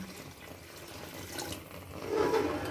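Water pours into a pot of rice being cooked for chicken and egg fried rice, a steady liquid rush that swells louder toward the end, with no talk over it.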